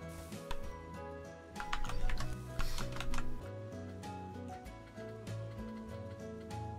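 Keys clatter on a computer keyboard in quick, irregular bursts of clicks, close and fairly loud, layered over continuous game music from a Planet Coaster build session.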